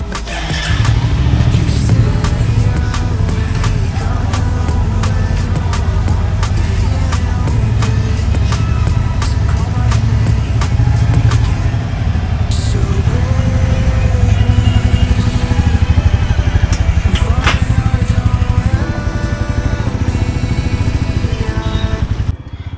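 A new Royal Enfield Classic 350 motorcycle in Medallion Bronze runs with a steady, even engine drone for the whole stretch, partly masked by music playing loudly over it.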